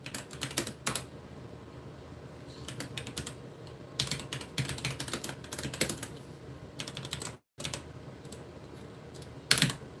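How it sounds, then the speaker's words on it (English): Fast, uneven clatter of typing on a computer keyboard, close and fairly loud, with brief pauses and one sharp gap near the end. "I can't even see what I'm typing."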